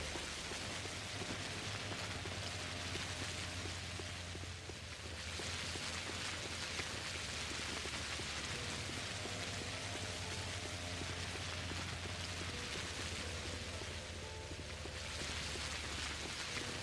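Steady rain falls in the Pathologic video game, a constant soft hiss of drops on surfaces with a low drone beneath, lasting the whole stretch without any voices.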